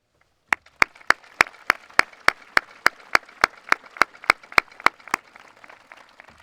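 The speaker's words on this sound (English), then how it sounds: "deserve a round of applause" A single person's slow, evenly spaced claps at a school graduation ceremony, about seventeen sharp claps in a steady rhythm against a quiet room, then stopping.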